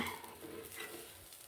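A masala egg omelette sizzles softly in a pan, with a steady faint frying hiss and no one talking.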